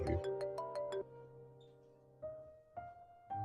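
A phone ringtone plays a quick melodic run of electronic notes, then pauses and repeats in shorter bursts.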